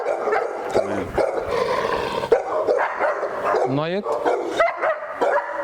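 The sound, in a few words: Cane Corso dog barking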